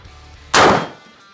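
A single gold-plated AK rifle shot rings out against an RMA ballistic plate: one loud, close, sharp crack with a short decaying tail and no voices.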